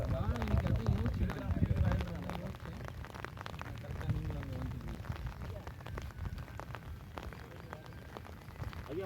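Steady rain pours down during a fishing trip, a dense continuous hiss of drops on surfaces, with voices talking in the first seconds before the downpour carries on alone.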